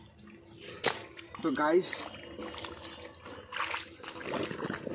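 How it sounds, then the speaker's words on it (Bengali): Water trickles through a freshly cut drain into a village pond, a soft, steady outdoor gurgle and dribble heard beneath someone talking. "এবারে জলটা আসছে ওপার দিয়ে, ড্রেনের মাধ্যমে জলটা আসছে।"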